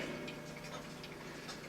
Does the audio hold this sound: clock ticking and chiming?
yes